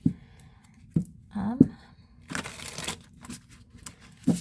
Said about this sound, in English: the angle of shuffling these cards is something to get used to